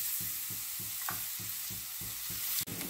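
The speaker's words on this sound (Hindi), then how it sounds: "Garlic and onion should not be raw. It should be well fried." Garlic and onions sauté in a pan with a constant sizzle, broken by regular scraping strokes of a spoon roughly twice a second, close and unaccompanied by talk.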